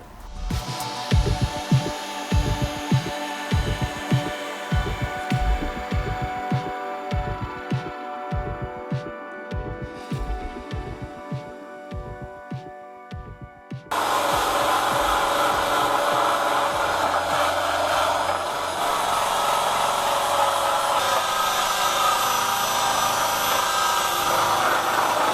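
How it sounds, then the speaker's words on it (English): A drill spins a wire wheel against old glue on a car door card, first in short bursts with pauses, then in one long steady whir that runs continuously to the end. "So to do that, drill and one of these wire wheels."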